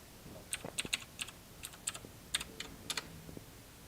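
Password being typed on a computer keyboard: a dozen or so light, irregular key clicks spread over a few seconds, close and fairly quiet, with no voices.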